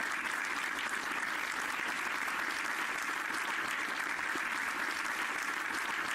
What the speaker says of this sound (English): Yeah, we need claps.